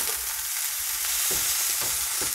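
Pork chops sizzling loudly on a grill, a steady bright hiss with several low thuds and scrapes as the meat is turned.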